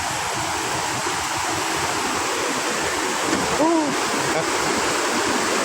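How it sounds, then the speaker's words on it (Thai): A waterfall near Vang Vieng, Laos, roars as a steady, loud rush of falling water throughout, with a brief spoken word over it. "นี่กำลังไปหาน้ำตกทุกคนเลย"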